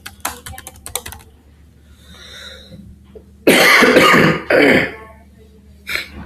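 Typing on a computer keyboard while setting up Visual Studio Code: a quick burst of keystrokes at the start, then louder rustling and a throat-clearing cough, close and fairly loud.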